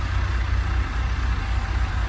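A big farm truck's engine idles in a steady, close, low rumble that holds an even level throughout, with no voices over it.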